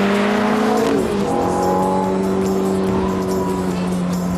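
A Ferrari accelerating on a road among other traffic gives a loud, close engine roar whose tone climbs and shifts through gears, steady and strong the whole way.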